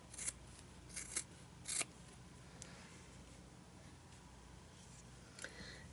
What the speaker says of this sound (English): Now I'm going to cut about 1/4 inch off of that seam.